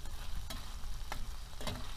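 Pieces of pumpkin fry in a skillet while cooking meat with pumpkin and mushrooms, giving a steady, close sizzle with a few sharper crackles and stirring sounds, and no talking.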